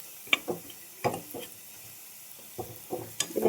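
Noodles tossed with masala in a pan make intermittent scraping stirs and short bursts of sizzle, close and fairly quiet, with pauses between strokes.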